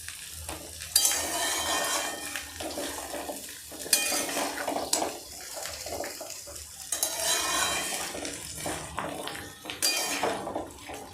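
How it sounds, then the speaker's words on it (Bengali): Mango pickle fries and is stirred in a kadai, with a spoon clanking and scraping against the metal in repeated bursts over a steady, close sizzle. "এবার আমি একটু ভেজে নেব ভালো করে নাড়াচাড়া করে"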